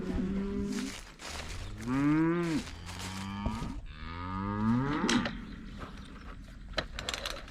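Heifers and calves moo repeatedly at close range while being moved off to yearling grazing, several long, loud calls overlapping with one another and no speech.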